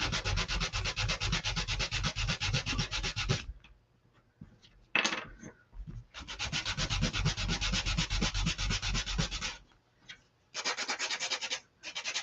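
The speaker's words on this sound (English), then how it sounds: "You can sand off a lot of that texture." A wood biscuit sign is sanded by hand with long bursts of close, gritty rubbing and brief pauses between strokes, plus a sharp knock in one gap.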